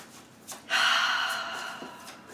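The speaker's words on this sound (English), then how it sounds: "take 3 deep cleansing breaths" A single deep cleansing breath, drawn in sharply and released slowly, audible alone and close at hand during a calm guided relaxation.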